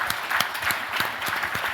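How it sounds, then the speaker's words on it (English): A room full of people claps steadily, with individual sharp claps standing out over a continuous bed of applause, fairly close. "I feel like we should clap for that."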